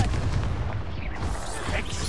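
An Expulso blast spell in the game Hogwarts Legacy, heard as a short, muffled booming explosion with rumbling low-end debris, close and fairly loud, with no voice over it.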